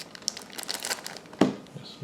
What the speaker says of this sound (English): Let's open this plastic bag and see what we have in here